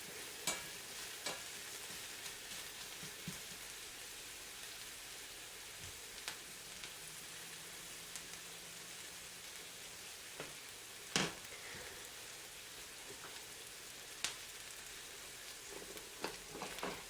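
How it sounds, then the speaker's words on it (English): Onions cook slowly in a stir-fry pan over lowered heat, a soft, steady sizzle like light rain with occasional faint ticks and spatters, no voices. "I actually want these onions to cook slowly"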